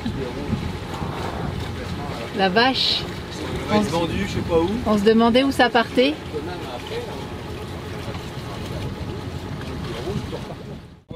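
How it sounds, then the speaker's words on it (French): A Beneteau Oceanis 430 sailboat motoring through a harbour channel, its engine drone and wind rumble running steadily underneath while people talk on board throughout. "Là on est encore dans le chenal et au moteur."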